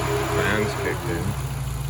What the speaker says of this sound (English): Those fans go hard.